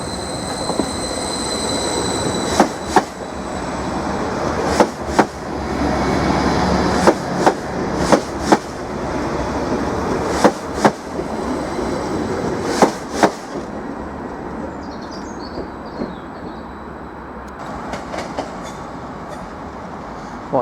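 A train departs Norwich station on its way to Sheringham: a close rumble builds as wheels clack rhythmically over rail joints, with sharp periodic clicks and a brief wheel squeal, then fades as it pulls away.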